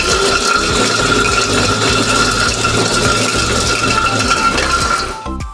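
Agaro Delite electric chopper running while cutting, a loud, steady mechanical whirring and rattling drone close by that cuts off abruptly near the end, with no talking.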